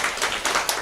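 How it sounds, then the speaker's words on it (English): An audience applauding at a small gathering, a brief burst of close, dense clapping. "Please clap for him one more time"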